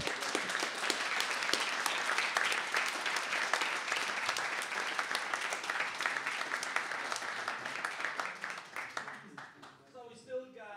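A conference audience at an indie games event claps in steady, dense applause after a talk, holding strong for most of the stretch before thinning out, with a voice speaking as it fades.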